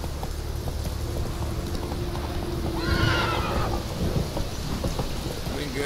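Roach the horse from The Witcher 3 gives a loud, wavering whinny partway through, over hoofbeats, steady rain and low rumbling thunder.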